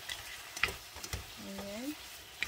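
Chicken feet being stirred with oyster sauce in a pan; a soft, faint sizzle under quiet spoon scrapes and taps, with a brief whistling tone partway through.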